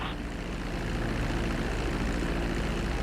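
Aircraft engine droning steadily on a landing approach in GTA V flight school, a continuous low-pitched propeller hum that holds at an even loudness throughout with no talk.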